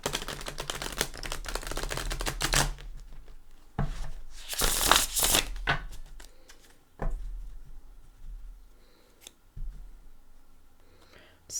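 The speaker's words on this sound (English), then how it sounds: "I'd just like to give it a couple shuffles with you here." Tarot cards are shuffled by hand in a few quick papery riffling bursts, close and crisp, with quieter handling sounds and soft clicks between them.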